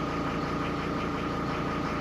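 A Mercedes W210 E290 with the OM602 diesel engine idles close by, a steady rumbling drone with a fine regular pulsing and no pauses.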